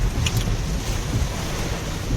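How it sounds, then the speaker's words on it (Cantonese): Typhoon wind and rain lash the seafront at A Po Kok, a steady loud roar of gusts and driving rain buffeting the microphone, with a few faint higher crackles. "呢啲真係叫橫風橫雨啊！"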